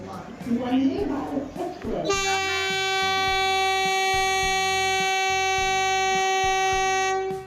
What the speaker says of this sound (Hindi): वंदे भारत ट्रेन का हॉर्न भी बड़ा तेज है